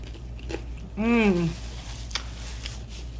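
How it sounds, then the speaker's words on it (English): Crunchy toasted bread eaten with sauce at a close-up birthday meal gives a few faint, sharp bite crunches and chewing sounds, interrupted by a short appreciative hummed vocal sound. "The bread is so crunchy, you almost can dip it down in the sauce."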